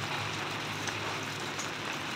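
Steady rain from Typhoon Marce patters on surfaces, a continuous hiss with faint drops, moderate and unbroken throughout.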